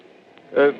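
A human voice imitates the hiss of a Fourth of July style rocket, giving a short, breathy hissing burst that swells and fades within a fraction of a second after quieter talk.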